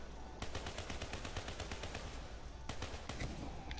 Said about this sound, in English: This one's kind of hard to shoot.